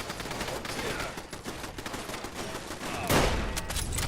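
Rapid gunfire from the video game Fallout London is aimed at a turret. Dense, steady bursts of shots keep going and grow louder with a heavier volley near the end.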